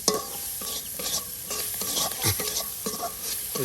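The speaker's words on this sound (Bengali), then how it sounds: "আর সব কিছু কিন্তু আপনার তেলের সাথে একদম ভেজে নেওয়া হচ্ছে" Chilies frying in hot oil for tribal village cooking, with a steady sizzle and repeated scraping stirs of a spatula through the pan, close and fairly quiet, no talk.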